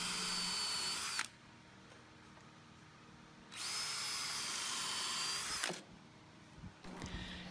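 A power drill drives long 5 5/8 inch screws into the wood of a garden bench, in two sustained, close whirring runs of a couple of seconds each with a quiet pause between and a short burst at the end.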